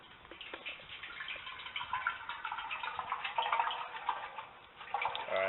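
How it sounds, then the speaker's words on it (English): Water poured into the exhaust glass pack muffler of a V10 Ford Econoline van, a steady faint trickling and gurgling wash that keeps running with small drips and no talk. "I'll pour water down this"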